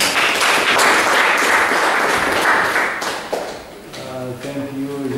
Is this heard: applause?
yes